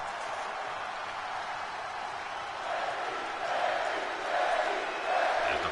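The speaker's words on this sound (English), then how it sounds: "As the fans cheer for Becky Lynch" Wrestling fans cheer for Becky Lynch at a WWE-style event, a sustained crowd roar that swells louder toward the end, with no clear talk over it.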